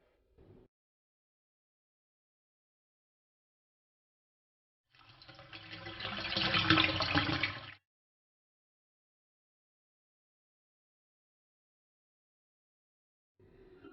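Water runs into a vessel for about three seconds in a quiet indoor household setting, a steady mid-level splashing pour that swells and stops, with near silence around it.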